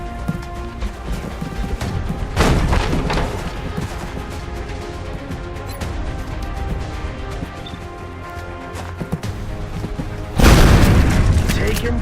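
A combat video game: loud booming explosions and bursts of gunfire in a dense battle mix, with two heavy blasts standing out over continuous rumble and possible radio-style voices.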